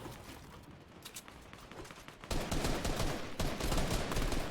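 Rapid gunfire in Fortnite during an FNCS solo match, with quieter distant shots growing into a loud, dense burst of sustained firing midway through, and no speech.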